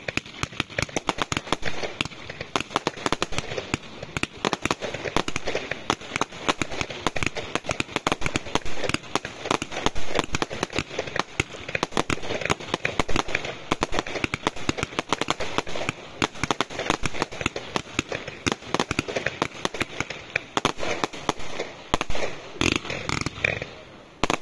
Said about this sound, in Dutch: Uit het Piro Show Silence Series is dit de Multicolor Fan Procent.